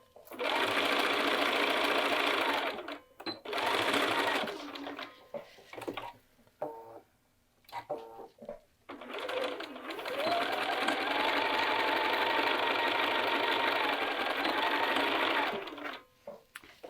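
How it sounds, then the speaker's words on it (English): A sewing machine chain-sews short cuffed sleeves in two long loud bursts of rapid stitching, with quieter handling and brief pauses between them. "And that's just sewing one piece right after another."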